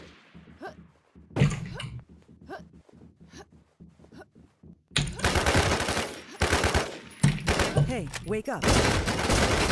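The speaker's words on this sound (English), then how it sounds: "You can shoot through rail shields in this game" Gunfire rattles in a survival shooter game set in a small market: bursts of automatic shots, sparse at first and then dense and loud in the second half, with a voice shouting over them.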